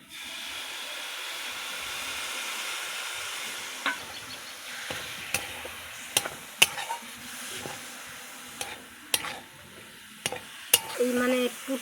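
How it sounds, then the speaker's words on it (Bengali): Grated coconut frying with liquid jaggery in a pan: a steady sizzle and hiss, then a series of sharp scrapes and clacks as a spatula stirs and taps the pan, close and fairly loud. "নারকেলটা ভেজে নিব দিয়ে দেবো ঝোলা গুড়"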